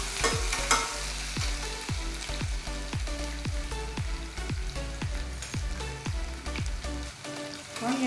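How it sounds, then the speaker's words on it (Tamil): Crushed ginger and garlic sautéed in a pan, with a dense, loud sizzle and a low steady hum beneath regular scraping strokes of a spoon about twice a second, and no voices. "இஞ்சி பூண்டு இடித்தது அதையும் போட்டுக்கலாம். போட்டு நல்லா வதக்கிக்கோங்க."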